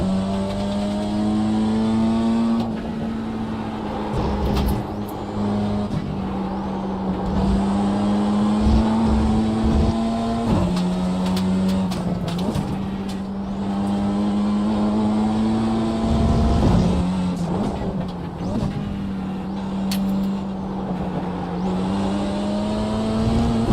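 A GT3 race car engine in the iRacing simulator at Spa revs loudly and steadily, with several distinct gear shifts breaking the rising engine note throughout.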